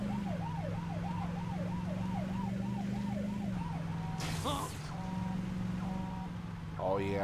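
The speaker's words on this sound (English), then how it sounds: "I hear your siren across the whole world." A wailing siren in the video game Saints Row 2 sweeps up and down continuously over a steady engine drone, then breaks into short electronic blips and chirps.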